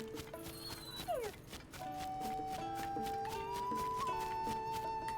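Horse in the video game Zelda: Tears of the Kingdom, with clip-clop hoof sounds and a whinny heard over steady game music and effects, fairly continuous throughout.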